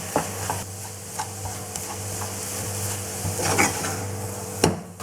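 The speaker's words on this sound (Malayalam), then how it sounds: "ഈ പൊടികളുടെ പച്ചമണം മാറുന്ന വരെ നമുക്ക് ഇളക്കി കൊടുക്കാം." Spice powders fry in oil for a chicken tikka masala gravy while a utensil stirs and scrapes the pan, with soft sizzling beneath and several sharp knocks and clinks against the pot.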